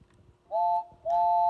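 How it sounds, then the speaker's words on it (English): A cartoon steam engine's whistle on Sodor sounds in two clear tonal blasts, the first short and the second held longer, loud and close over a quiet background. "That's Molly's whistle."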